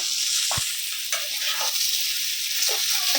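Potato, cauliflower and onion frying in a pan, a steady bright sizzle with occasional scraping stirs and a soft clank of the utensil, close and alone without talk.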